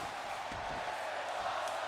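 An arena crowd in a wrestling video game gives a steady, faint roar of cheering throughout, even and distant with no standout shouts.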